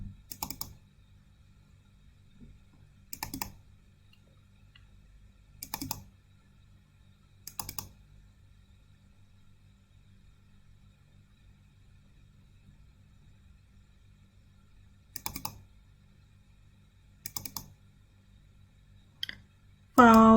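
Computer mouse and keyboard clicks arrive as short, isolated bursts spaced a few seconds apart against near silence, close and crisp, with a low steady hum underneath.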